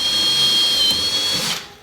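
A power drill bores into a wooden board, giving a loud, close, steady whine that holds for over a second and then winds down as the bit stops.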